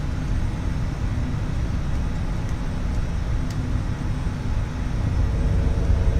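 An Embraer ERJ 145 airliner in Flight Simulator X climbing out after takeoff, a steady, loud low engine and air roar that runs unchanged throughout, with no speech.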